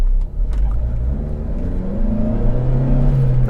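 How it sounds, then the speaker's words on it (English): A car engine revs steadily and loud on its own, its droning pitch climbing and holding while the vehicle barely moves. "the thing is, the car revs."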